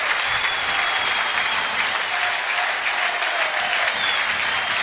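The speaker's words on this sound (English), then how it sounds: "Great cheer for Jack going up there" A football crowd at St Mirren's Scottish Championship title celebration cheers and applauds manager Jack Ross, a steady, dense roar of clapping and cheering that holds at full volume throughout without letup.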